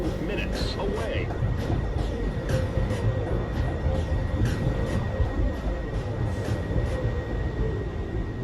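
A New York City Subway train rumbles steadily at Rector Street station, with a low continuous rolling roar throughout and a recorded station announcement voice heard over the train noise.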